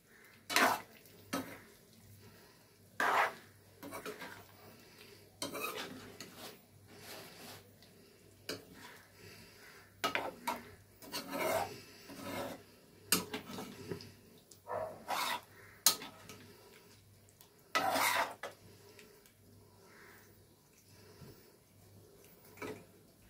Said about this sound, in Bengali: দিয়ে একটু নাড়াচাড়া করে নেব। ক্যাপসিকামগুলো এমন করে ভাজবে যেন তার কালারটা যেন চেঞ্জ না হয়।